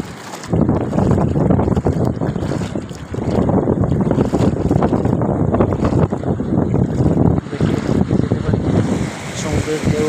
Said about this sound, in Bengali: সমুদ্রের ঢেউ আসছে, ভিজিয়ে দিবে দিবে।